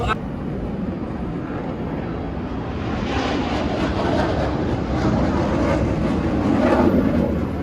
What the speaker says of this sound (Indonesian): Combat 2 atau pesawat F-16 Fighting Falcon Supporting Fighter